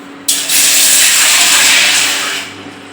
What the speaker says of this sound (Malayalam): അതിന് മുമ്പ് നമുക്ക് വെള്ളം ഒഴിക്കാം